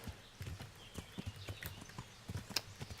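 Horse hooves clip-clop in a steady walking rhythm in the medieval game Kingdom Come: Deliverance, faint and evenly paced for the whole stretch, with no speech.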